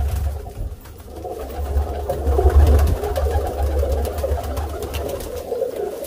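Teddy pigeons and their young chicks cooing in a breeding loft, soft repeated throaty coos layered over a low rumbling background, moderately close with no talking.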